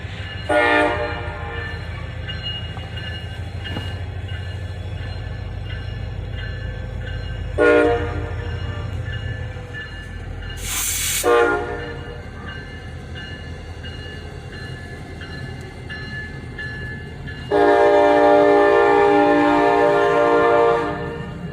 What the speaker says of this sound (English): It was the CSX local train, led by a Jeep 30-3 running long hood forward.